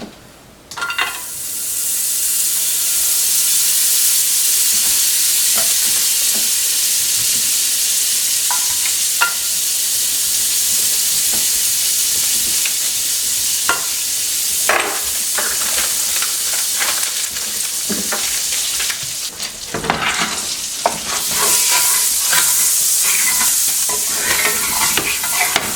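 Butter melts and sizzles in a frying pan, a steady loud frying hiss that runs nearly throughout, with occasional clinks and scrapes of a utensil against the pan.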